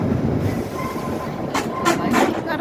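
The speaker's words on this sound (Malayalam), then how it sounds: "ഷിംലയിൽ നിന്ന് ടോയ് ട്രെയിൻ" Shimla toy train rolling along its rails, a steady broadband rumble of wheels and carriages with a few brief squeals and clacks toward the end, close and continuous with no talk.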